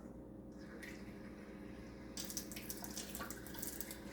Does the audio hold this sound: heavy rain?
no